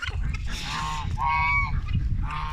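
A gander in a poultry yard gives three loud, nasal honks in quick succession over a low background rumble.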